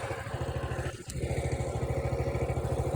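The small single-cylinder engine of a Coleman CT200U-EX mini bike chugs in fast, even pulses while being ridden outdoors in light rain. It is loud and close, with a brief dip before the steady beat resumes.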